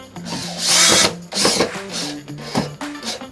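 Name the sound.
drill driving screw into oven cabinet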